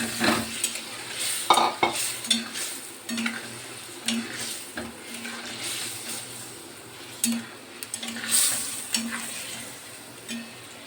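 Ground mustard paste with green chilli and water cooks in a pan beside eggs, bubbling and sizzling under repeated spoon scrapes and clinks against the metal, close and steady.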